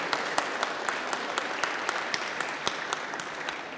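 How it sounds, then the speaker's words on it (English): An audience applauds panel guests at an event, a steady wash of many hands clapping at moderate distance with distinct individual claps poking through. "Maybe we'll give them a round of applause now,"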